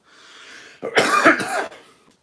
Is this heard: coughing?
yes